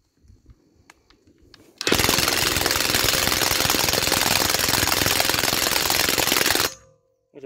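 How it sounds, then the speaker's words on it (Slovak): An impact wrench set to 100 Nm hammers continuously against a bolt tightened to 126 Nm or more, a loud, close, rapid rattling burst lasting about five seconds after a few faint clicks, then stopping abruptly. "A nastavujem 100 Nm na rázovke, vyskúšam povoliť skrutku, ktorá je dotiahnutá na 126 Nm"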